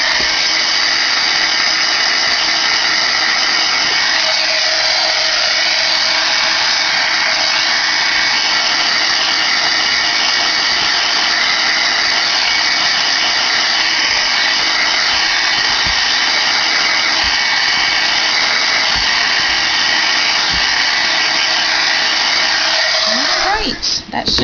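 A heat tool blows steadily while drying a handmade CTMH paper card, a continuous loud whirring hiss that runs unbroken and close, cutting off abruptly at the very end.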